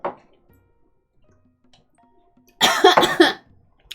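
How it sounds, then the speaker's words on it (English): Several harsh coughs burst out close and loud in a quick cluster after a few seconds of near silence, from a person choking slightly on a drink. "I'm drinking something and it made me cough."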